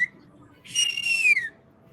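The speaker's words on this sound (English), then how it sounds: "all of Canada needs to hear that whistle" A loud, clear two-finger-free whistle from a curling mom, a single sustained note lasting under a second that slides downward at the end, rising well above quiet background noise.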